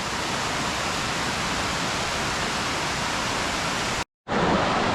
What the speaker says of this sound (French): Elle peut porter le nom de cascade. Ouais. Elle est assez haute, une trentaine de mètres.